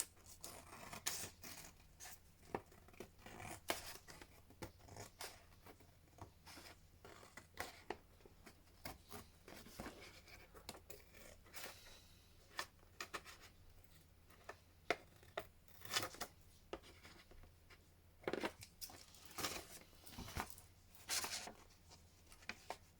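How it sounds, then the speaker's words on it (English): Scissors trimming paper for a craft journal, repeated quiet snips and rustles in irregular bursts, close but faint, no speech. "Okay, so I'm going to trim all this so that it's the right size."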